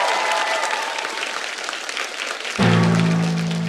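Sustained audience applause in a TV studio comedy show, dense steady clapping throughout, joined near the end by a low musical sting under it.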